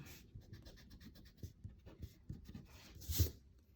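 An eraser rubs over a pencil drawing on paper, making close, soft scratchy strokes in an uneven rhythm, with one firmer scrub near the end and no talking.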